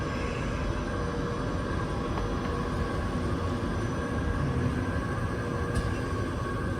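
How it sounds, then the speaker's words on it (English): A TGV Lyria train departs, giving a steady, even rumble and hum with faint high tones, heard from nearby without any voices. "So the train is headed out."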